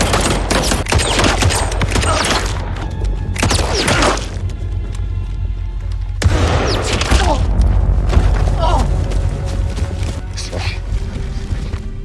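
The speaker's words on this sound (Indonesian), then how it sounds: "baku tembak pun kembali terjadi" Rapid gunfire bursts sound in a war film scene at a North Korean border, loud volleys and booms broken by brief pauses, with voices mixed in.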